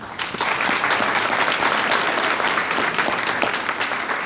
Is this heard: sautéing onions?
no